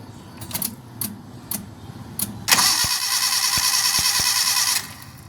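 A Suzuki Carry 1.0 engine cranks briefly after a few clicks, then catches and revs loudly for a couple of seconds before settling, close by with no talk.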